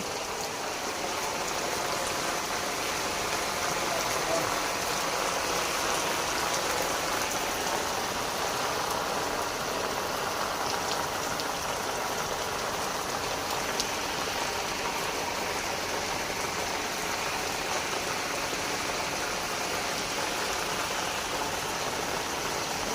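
Heavy rain pours steadily onto a tin roof at night, a dense, continuous hiss and patter that stays constant throughout.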